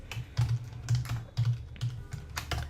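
Someone types on a computer keyboard into a payment form, quick clusters of soft key clicks in an uneven rhythm, close and clear, with no voice over it.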